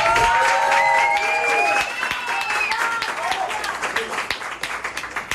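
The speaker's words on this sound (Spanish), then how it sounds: "ustedes merecen las dos un fuerte aplauso de este público" Audience applause for two women on a Panamanian show swells under a speaking voice, then thins into a scattering of separate claps that fade toward the end.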